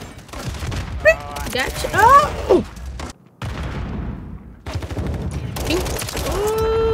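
Bursts of WSP 9 submachine gun fire in Call of Duty MW3/Warzone, rapid clattering volleys with game effects, mixed with a player's excited exclamations.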